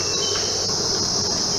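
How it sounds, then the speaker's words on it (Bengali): Crickets chirp all around in the hills of Kalimpong, North Bengal, forming a dense, steady high-pitched trill that stays loud and unbroken throughout. "চারিদিকে ঝিঝি পোকার ডাক।"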